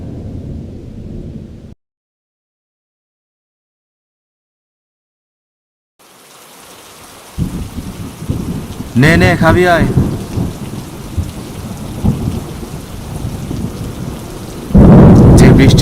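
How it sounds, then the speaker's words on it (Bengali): Steady rain pours with deep thunder rumbling through it, loud and close; the sound cuts out into silence for a few seconds before the downpour returns, and a voice calls out briefly. "যে বৃষ্টি পড়ছে"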